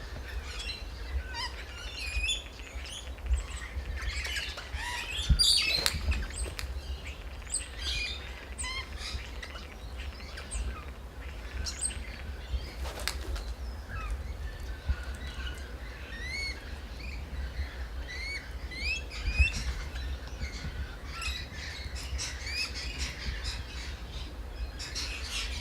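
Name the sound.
magpie calling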